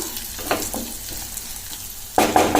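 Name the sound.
peanuts frying in oil being stirred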